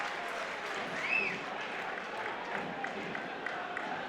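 A football crowd applauds at a Doncaster versus Rovers match in 2018: a steady, dense wash of clapping and crowd noise from a distance, swelling slightly near the start and then holding level.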